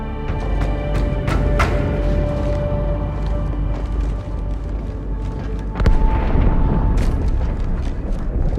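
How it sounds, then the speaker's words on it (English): An explosion aboard a ship in the Halo 2 campaign sets off a long, rumbling roar that swells and holds, with sharper blasts and crackles around the middle and near the end. "That explosion came from inside the Athens, same as the Malta."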